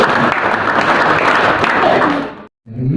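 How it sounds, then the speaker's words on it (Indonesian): Audience applause at a NasDem party meeting in Bekasi, a dense loud burst of clapping for about two and a half seconds that cuts off sharply into brief silence before resuming. "Tepuk tangan."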